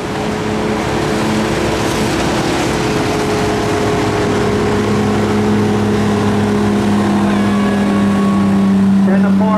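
Mini wedge race cars run at I-96 Speedway in Michigan, their loud engines droning and whining continuously. A track announcer talks over the racing.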